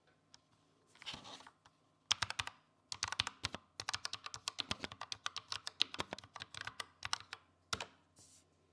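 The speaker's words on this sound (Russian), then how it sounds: "звук нажатия максимально похожий на то, как звучали модульные клавиатуры 80-х или начала 90-х" Fast, steady typing on a Xiaomi MIIIW wireless mechanical keyboard, dense crisp clacks in quick bursts with brief pauses, close and clear with no talk, evoking the sound of old 1980s modular keyboards.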